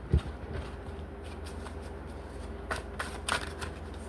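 A deck of tarot cards riffled and shuffled close up, soft rapid flutters with a few sharper slaps, quiet and without talk.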